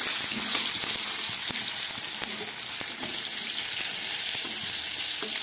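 Cauliflower fries in hot oil with a dense, steady sizzle, broken by occasional soft knocks and stirring scrapes in the pan; no one speaks.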